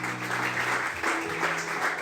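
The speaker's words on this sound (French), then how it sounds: "Acclamons le Seigneur." A church congregation at a Sunday service applauds steadily, a dense, even clatter of many hands lasting about two seconds with no talk over it.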